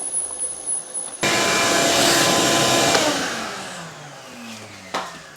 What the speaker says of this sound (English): Don't mind the vacuuming of the flammables, that's okay.